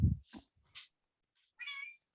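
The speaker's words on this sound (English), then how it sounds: "my cat wants in" A house cat meows to be let in through a door, giving a few short, faint calls with one clearer, longer meow near the end, separated by quiet gaps.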